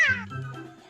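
One short, close meow from a cat, sharp at the start and then fading quickly into a low murmur of background noise.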